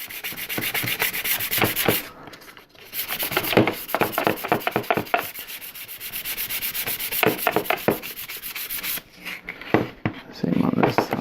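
Burrs on a small 1/8 scale Black Moth Heavy model part are rubbed away, making quick, scratchy strokes in bursts with brief pauses between them, close up and fairly loud.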